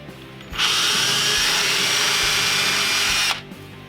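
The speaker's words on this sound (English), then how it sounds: "I'm gonna be pre-drilling this" A power drill whirs loudly for about three seconds, starting and stopping abruptly as it pre-drills into wood, with quieter background before and after.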